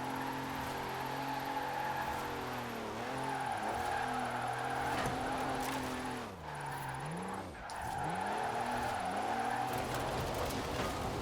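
Diesel Mercedes E-Class drift car, lowered on drift suspension, revving hard in third gear in Forza Horizon 4. The engine drones steadily for the whole stretch, with pitch sweeping down and back up twice as it slides, plus a faint tire squeal.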